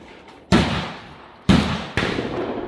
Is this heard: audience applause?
no